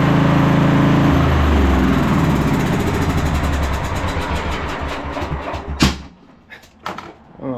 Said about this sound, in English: I don't know why, but we're backfiring now.